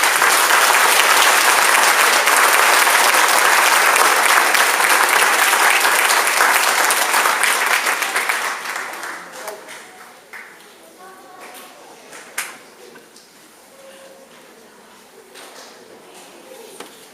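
A school audience at a sixth grade awards event claps for the students being honored, strong steady applause for about eight seconds before it fades to scattered claps, small knocks and a quiet room.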